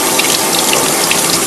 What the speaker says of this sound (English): The water heater's kicked on.